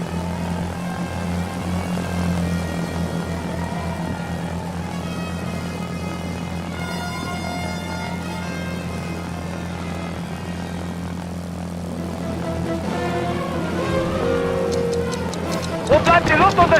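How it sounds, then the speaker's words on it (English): Ju-87 Stuka dive bombers in the PS2 flight game Secret Weapons Over Normandy: a steady, loud propeller-engine drone runs throughout under radio voices, growing rougher with some sharp bursts near the end. "Inbound Ju-87 Stuka dive bombers."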